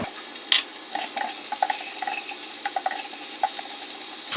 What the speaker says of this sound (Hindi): इसको हल्का सा फ्राई करके इसमें चिकन डालेंगे।